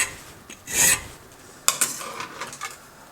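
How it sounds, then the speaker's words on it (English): A rasp files a folding knife blade in short scraping strokes, one long rough stroke followed by a cluster of quicker, lighter rasping pulls, close and moderately loud. "you're probably bored with the old filing by now"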